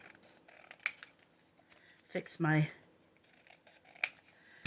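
Scissors make a quick trimming cut through paper for a craft tag, a short close snipping burst amid small clicks and handling sounds, with a brief muttered voice nearby.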